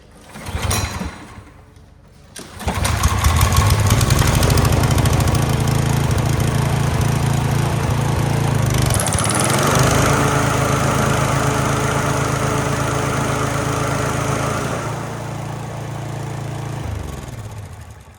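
A Toro TimeMaster 30-inch lawn mower engine pulled to start, catching after a short burst and then running loud and steady, with a brief shift in pitch partway through before it keeps droning.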